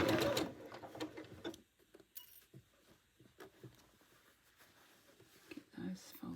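A sewing machine runs a quarter-inch seam on a fabric scrunchie, a loud close burst of rapid mechanical stitching that drops to quieter intermittent ticks and taps, with faint voice in the background.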